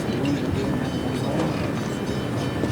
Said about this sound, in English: The goods train through the club here at Moama.